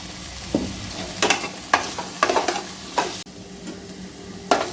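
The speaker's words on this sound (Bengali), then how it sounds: "5 মিনিট ভালো করে সবজিগুলো আরও আমি লাল লাল করে সব ভেজে নিয়েছি।" Chopped capsicum, chilli, curry leaves and onion with a little turmeric fry in a pan for chire pulao, a soft sizzle under a series of sharp spatula scrapes and stirs spaced irregularly, close by, no voices.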